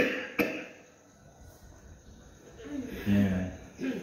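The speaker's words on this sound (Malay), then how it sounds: "Dia batuk betul-betul." A person gives a sharp single cough near the start, followed by quieter breathy throat sounds and a short snort-like burst later, under low background noise.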